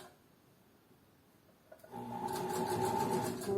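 A sewing machine starts up after a quiet moment and stitches a seam, a close, steady mechanical whirring hum with a fast regular chatter of the needle continuing to the end.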